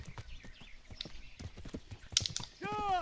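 Horse hooves clip-clop in the medieval video game Kingdom Come: Deliverance, a steady run of near hoofbeats with a sharp clatter late on, then a rising, whistling whinny-like cry at the end.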